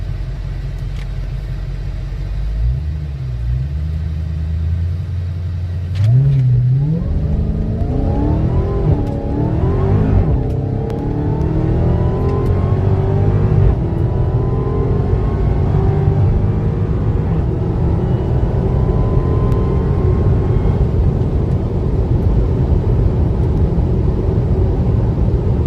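A Dodge Charger Redeye accelerating hard through a 60-130 mph run, its engine note climbing steadily and loud through successive gear pulls, a deep continuous roar close to the microphone with no speech.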